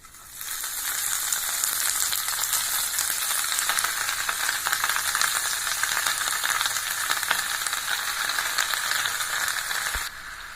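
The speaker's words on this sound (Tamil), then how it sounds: "கொஞ்சோண்டு நெய் ஊற்றி இதை நம்ம அள்ளி போட்டு வதக்கிடலாங்க" Rose petals sauté in ghee in a kadai, giving a steady bright sizzle with a light scraping texture from stirring, close and continuous for about ten seconds before easing off.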